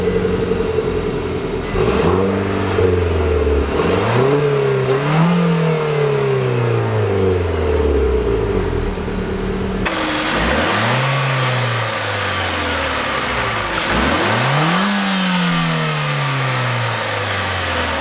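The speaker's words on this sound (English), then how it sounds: "Now, let's start up this engine here because it sounds fantastic." A 2017 Nissan Sentra NISMO's 1.6-liter direct-injected turbocharged inline-four runs close and loud, settling into an idle and then climbing through repeated revs that rise and fall, one after another.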